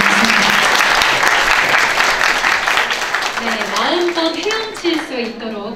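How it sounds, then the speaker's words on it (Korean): A crowd claps loudly at a political youth talk concert with a presidential candidate, steady applause that thins out as a voice begins talking over the tail end. "박수 부탁드립니다"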